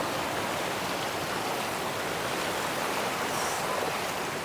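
Steady rushing of flowing stream water, broad and continuous, close by with no voices.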